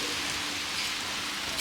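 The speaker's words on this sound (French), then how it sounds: "Il s'est mis à pleuvoir." Rain beginning to fall outdoors, a steady dense patter of drops on surfaces, even and moderately loud throughout.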